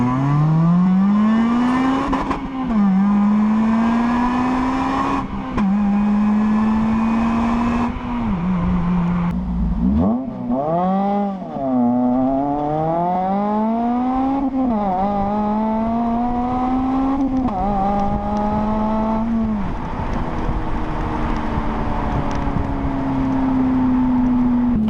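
A Honda Civic FN2 fitted with a Milltek exhaust accelerates hard through several gears, its loud engine note climbing in pitch and dropping back at each shift, heard close up from inside the car with no talking.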